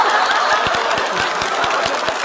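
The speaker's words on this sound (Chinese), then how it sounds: "直接鼓掌。" Studio audience at a comedy roast show breaks into applause, dense continuous clapping with some laughter mixed in, loud and close.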